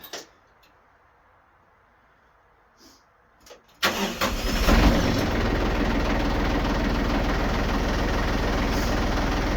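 A tractor engine turns over and catches, then settles into a steady, loud idle that runs without a break while the machine is backed up, with a few faint ticks and knocks before it starts.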